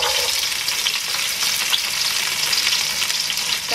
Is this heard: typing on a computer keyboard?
no